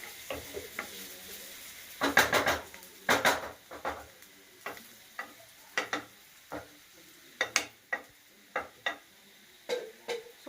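Chicken pepper fry sizzles softly in a pan while a spatula stirs and scrapes, with repeated sharp clinks against the metal and no talking.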